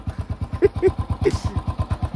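Motorcycle engine running steadily during light roadside servicing on a deserted road, a close, even rhythmic chug throughout with faint voices in the background.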